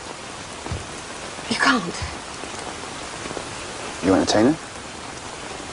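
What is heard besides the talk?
rain falling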